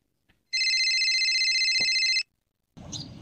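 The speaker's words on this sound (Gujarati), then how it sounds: "આનું ક્યાં ફોન આવ્યો" A mobile phone ringtone rings indoors during a Gujarati comedy sketch, one steady electronic tone lasting about two seconds, loud and close, followed by a brief rustle.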